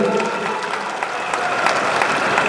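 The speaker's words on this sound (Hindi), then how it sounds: "आप इनके लिए एक बार जोर से ताली बजाइए" An audience at a Bihar political party event claps in steady, dense applause for the party's leaders, with faint crowd murmur beneath.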